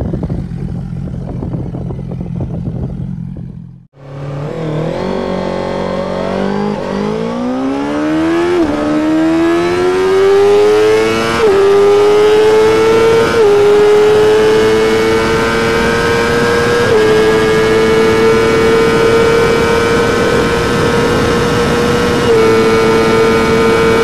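A sportbike engine idles, cuts briefly, then revs hard and accelerates with a steadily rising whine that climbs through several gear shifts, loud and close throughout.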